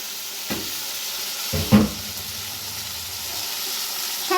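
Marinated chicken pieces fry in a covered pan, a steady moderate hiss and sizzle with a couple of soft knocks, likely from the lid or a utensil, and no talk.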